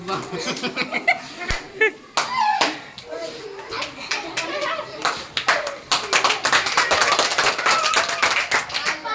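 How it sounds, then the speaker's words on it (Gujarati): A group claps loudly and unevenly during a home party game of dropping nails into a bottle, with bursts of applause, a few sharp slaps and children chattering and laughing throughout. "ચલો જોરદાર તાલીઓ"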